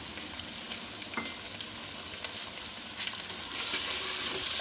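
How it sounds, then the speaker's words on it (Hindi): Chicken fries in a pan with white pepper, black pepper and salt for a white korma, giving a steady close sizzle with occasional stirring scrapes and no talk. "और हम चिकन को 10 मिनट तक अच्छे से भून लेंगे।"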